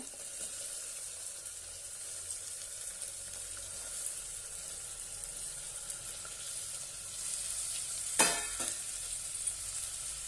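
Cauliflower, peas, carrot and potato sauté in a pot for veg pulao, giving an even, soft hiss of frying that holds throughout, with one sharp clatter of a utensil near the end.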